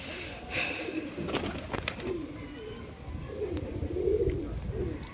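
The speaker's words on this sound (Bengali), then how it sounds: "ফার্মের কবুতর যেহেতু বাইরে বেড়েনি কোনো দিন" Farm-raised pigeons coo in soft, repeated low calls at moderate distance, with faint background bustle and no talk.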